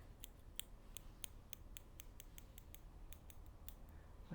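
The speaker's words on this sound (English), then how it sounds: "with these nail scissors." Dull nail scissors snipping repeatedly in close, quiet ASMR, a steady series of crisp little metallic clicks about three per second with no talking.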